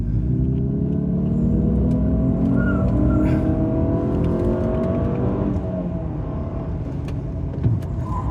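A 2024 Honda CR-V SUV engine pulls steadily uphill, a continuous close rumble with rising and falling revs as the gears shift, alone without talk.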